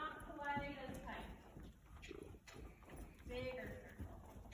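Hooves clip-clop steadily as a horse named Blizzard circles on a lunge line, with a person talking over the rhythmic footfalls throughout.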